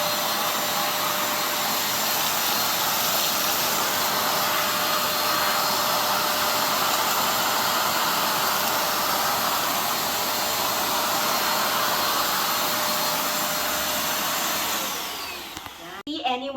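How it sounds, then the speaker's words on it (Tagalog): Total TVC1412 800W wet and dry vacuum cleaner sucking up pebbles and sand, a loud continuous roaring whine held steadily before cutting off near the end, with clattering as it shuts down; a person talks in the clip. "That's how effective this vacuum cleaner is."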